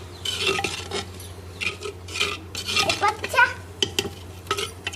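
A spoon stirring and scraping spices into ridge gourd sabzi in a pan, rhythmic clinks and scrapes against the metal over a faint background hum.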